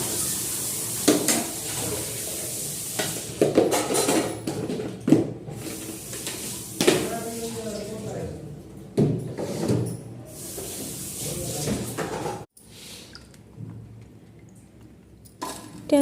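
Breakfast dishes being washed at a kitchen sink, with running water, clinks and clatter of utensils set down and scraped at close range, then a quieter stretch near the end.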